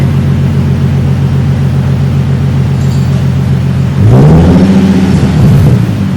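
Nissan 370Z with a new ISR exhaust idling loud and rumbly up close, then a sharp blip of throttle that revs the engine up and holds a deep, raspy drone.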